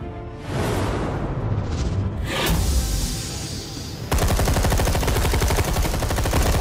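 Sustained rapid gunfire from Batman: The Telltale Series, a loud automatic burst that turns into a dense, steady rattle of shots with no talking.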